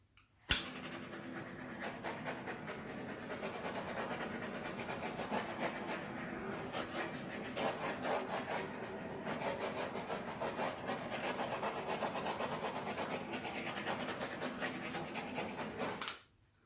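A torch blasts over a freshly poured acrylic paint ring pour, a steady loud hiss that starts with a sharp click and runs unbroken for about fifteen seconds before cutting off abruptly.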